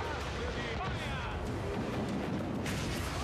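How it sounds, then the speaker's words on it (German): Mortars fire in the naval combat of Assassin's Creed Rogue, giving dull, rumbling booms that blend into a dense, noisy mix, with someone talking over them. "Und nochmal Mörsern."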